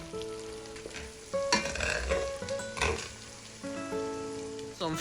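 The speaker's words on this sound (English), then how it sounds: "Next, introduce crayfish or dry fish powder. We are going to toast for 1 minute." Crayfish powder toasts in hot palm oil sauce with seasoning cubes and locust beans, giving a steady sizzle and crackle broken by several louder bursts of stirring and scraping in the pot.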